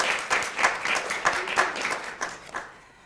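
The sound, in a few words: audience applause at certificate ceremony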